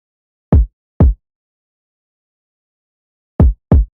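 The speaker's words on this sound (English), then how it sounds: "I went and did this kick pattern" A simple kick drum pattern in a beat: two quick low thumps, a pause, then another pair, dry, punchy and alone.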